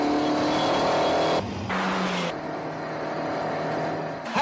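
A 1985 Citroen BX Sport, a 126-horsepower car, roars past on a Daytona Beach road test, its engine loud and close with a brief dip and a surge near the end.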